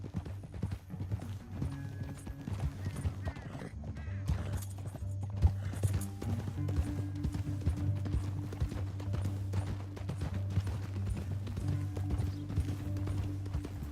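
Steady horse hoofbeats clip-clop at a gallop in Red Dead Redemption 2 under a low droning music bed, moderately quiet and continuous throughout.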